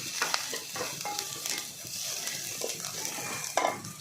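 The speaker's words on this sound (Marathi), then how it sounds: "एक अर्धा चमचा गरम मसाला घालायचा आहे सर्व मिक्स करून घ्यायचं आहे" Garam masala stirred into a stuffed capsicum mixture in a pan: close scraping of a spoon against the metal over a low sizzle, with intermittent clinks and a sharper knock near the end.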